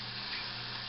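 Mushrooms sautéing in a pan, a steady broadband sizzle, faint and continuous, without clear squeals.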